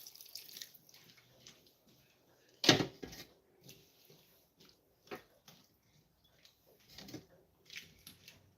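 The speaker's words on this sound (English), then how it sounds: "You're gonna add a little water, just so you have your gravy eventually, and so the stuff can be cooked." Water poured into a pan of Jamaican steamed red snapper with okra, heard as scattered soft splashes and drips with one louder splash in the middle, fairly faint and close by.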